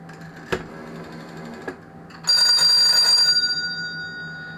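A GEC Muraphone telephone, just repaired after failing to ring, lets out a loud, close electric bell ring lasting about a second, with a rapid trembling clatter, after a few faint knocks.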